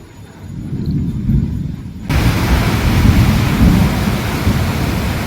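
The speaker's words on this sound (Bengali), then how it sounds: "এদিকে আবার বৃষ্টিও হচ্ছে" Heavy rain pours down after a spell of summer heat, with a low thunder rumble underneath; the downpour gets louder and denser about two seconds in and then holds as a loud, steady roar.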